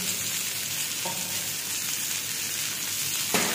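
Shallot and onion frying with garlic in a pan, a steady close sizzle with light stirring scrapes and a sharper burst of hiss near the end.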